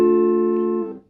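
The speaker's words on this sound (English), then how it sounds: "Then at 0, we're just letting the lower frequencies through." A single note plucked on a solid body electric ukulele with its tone knob turned fully down, giving a dull, muffled tone that rings steadily for about a second, then fades quickly.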